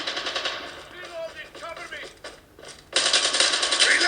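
Bursts of automatic gunfire in Call of Duty Mobile, a rapid rattling stretch at the start, a lull with faint game sounds, then a loud, sustained volley at the end, with no one talking.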